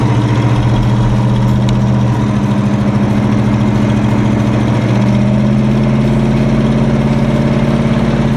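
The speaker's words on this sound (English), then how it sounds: "this car is so loud" A boxy Chevy car engine drones loudly and steadily throughout while driving, a deep rumbling hum with slight shifts in pitch as it runs close by.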